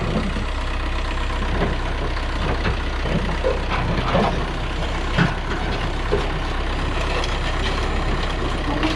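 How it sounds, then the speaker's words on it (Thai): A Caterpillar D4E bulldozer drives onto a trailer with a loud, close, continuous diesel engine rumble and clanking track noise that holds steady throughout. "เป็นแท็กเตอร์ D4E นะครับเป็นแคทนะครับ ก็เดี๋ยวให้ชมรถแท็กเตอร์ลงเทเลอร์กันก่อนนะครับ"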